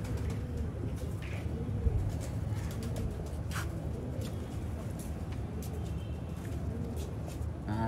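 Batera pigeons from Sialkot coo softly and repeatedly against faint background traffic and distant rumble, with quiet clicks and rustles scattered throughout.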